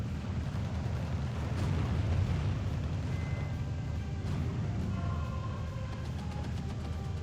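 A tank cannon shot striking a Sherman in the Steel Division video game, fired by a KV-85: a dense, steady roar of battle rumble with booming impacts, fairly loud throughout and no talk.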